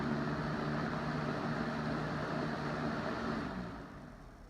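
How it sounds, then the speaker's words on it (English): A Lakewood fan that is slightly unbalanced, with its blades a little off center, hums and whirs with a steady low drone after running on high, then fades as it spins down near the end. "I'm going to go back to high and do a quick spin down."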